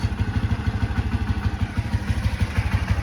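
A 1985 Honda Elite CH 150 scooter engine idles close by, with a steady, rapid, low putter of evenly spaced thumping pulses and no talk over it.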